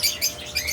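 Pet birds giving quick high chirps, three bright tweets spaced evenly over a brief moment, close and fairly clear with no voices.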